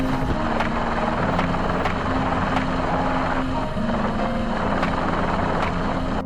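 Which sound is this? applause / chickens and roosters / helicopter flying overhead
helicopter flying overhead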